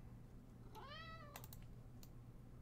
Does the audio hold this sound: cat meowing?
yes